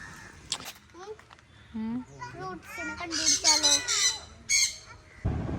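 Colourful pet birds at a friend's home squawk loudly in repeated harsh bursts, close by, with a voice talking among the calls.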